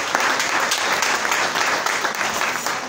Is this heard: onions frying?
no